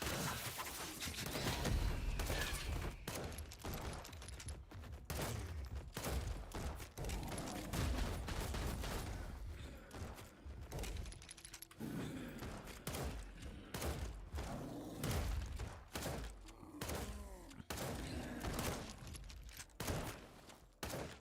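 Gunfire in the Western action game The Dark West, a dense stream of rapid shots and thuds in quick bursts, loud and continuous with almost no pauses.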